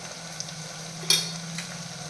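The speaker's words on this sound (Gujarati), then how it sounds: "અને સારી રીતે મિક્સ કરી લઈશું" Coriander, cumin and turmeric stirred into okra frying in oil, a steady soft sizzle with one brief louder scrape of the spoon midway.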